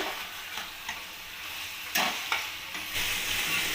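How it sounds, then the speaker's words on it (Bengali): Cauliflower and potato pieces being stir-fried with spices in a pan, a soft steady sizzle broken by several distinct scraping stirs of a spoon. "আলু আর ফুলকপিটা দিয়ে ভালোভাবে কষিয়ে নেব"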